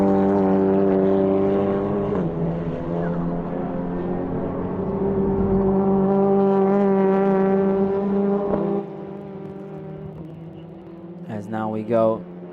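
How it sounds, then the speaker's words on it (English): Engine drone of the number 301 TCR touring race car at the Most circuit during a TCR Eastern Europe race, a steady harmonic-rich roar shifting pitch as it runs, with a commentator talking over it throughout. "here is our race leader, car number 301, getting ready to start what will be the final lap of this race"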